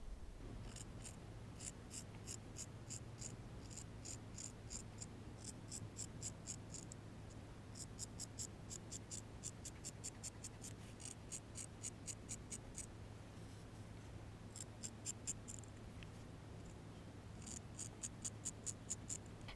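Scissors snip repeatedly through folded fleece fabric for a hat lining, the crisp blade closes coming in quick bursts of regular cuts with brief pauses between, close and clear over a steady low hum.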